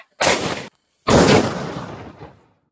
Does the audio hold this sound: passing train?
no